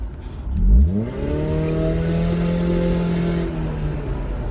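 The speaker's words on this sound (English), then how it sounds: "it has a little bit of a fart can sound, but it also has some low tones in the exhaust" A car exhaust revs up sharply with a loud, raspy roar, then holds a steady droning tone before easing off, close by.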